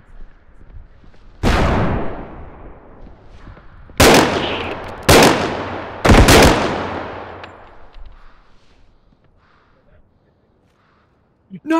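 Gunfire and a grenade explosion in the video game BodyCam: four sharp loud blasts, each trailing off in a long decaying rumble, with a voice talking in the background.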